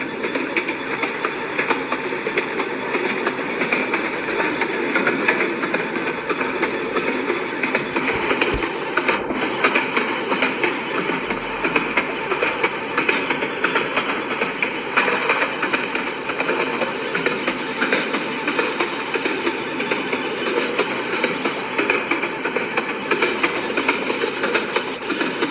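A train running in a train video game, with a steady mechanical rumble and clatter that continues without break for the whole stretch, even in level and moderately loud, with no talk over it.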